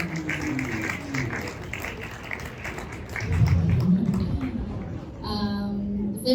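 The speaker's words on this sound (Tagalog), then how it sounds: "Malakas na palakpak po sa Panginoon." Applause from a church congregation in a worship service, steady clapping spread across the room at moderate level, with a voice briefly heard near the end.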